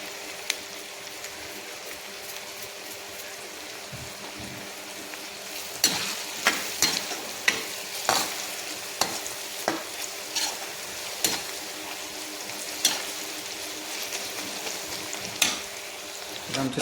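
Sambar tadka with asafoetida sizzles in a pan, a steady close frying hiss broken by repeated clinking stirs and scrapes of a spoon.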